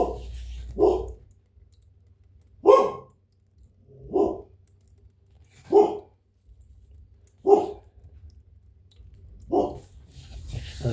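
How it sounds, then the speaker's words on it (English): A dog barks seven or eight times in single, evenly spaced barks roughly every one and a half seconds, fairly close and clear against a quiet background. "That's my dog."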